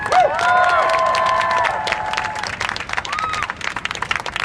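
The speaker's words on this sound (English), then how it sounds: "Please give yourself an applause." A crowd at an animal rights march in New York City claps and cheers, a steady wash of applause that fades slightly toward the end.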